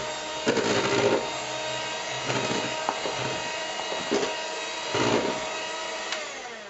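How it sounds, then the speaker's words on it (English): Eggs being whisked by hand in a bowl for waffle batter: a steady, close, busy scraping and swishing with louder surges roughly every second or so, with no talking. "Only whisk the egg."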